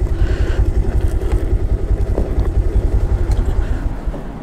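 A motorcycle engine idles close by with a fast, even low throb that holds steady and then eases off at the end, with no talking.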